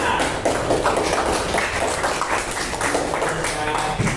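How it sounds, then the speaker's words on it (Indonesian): A primary school class applauds together during a maths lesson, a dense steady wash of many hands clapping close by for several seconds with children's voices mixed in. "Tepuk tangan"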